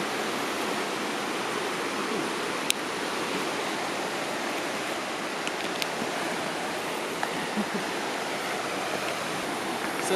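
Ice-cold snow melt stream water rushes steadily in a nature setting, a dense close hiss of flowing water with a few faint clicks, continuous and without voices.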